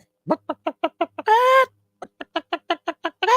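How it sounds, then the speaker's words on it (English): A chicken clucks in a quick, rhythmic series of short pulses, breaks into a longer drawn-out squawk, then resumes the steady clucking, close and clear. "It's just me and my chicken now."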